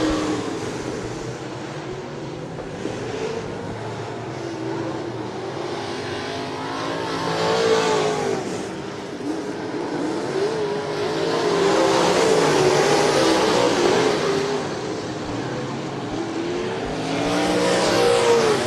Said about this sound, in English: Green flag in the air. Jason Garver fires. He's going to protect the bottom side of the racetrack